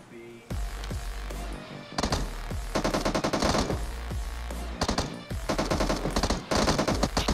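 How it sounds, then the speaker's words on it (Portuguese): Rapid bursts of automatic gunfire in the battle royale game PUBG, loud and close, firing in several sustained volleys separated by brief pauses. "Eu vi tiro da rua."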